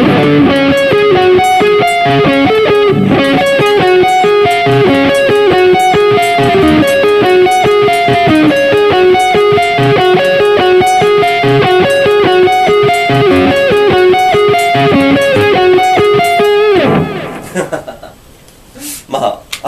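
An electric guitar plays a lead line through a Kemper amp simulator with a booster adding distortion, loud, sustained and close, stopping near the end.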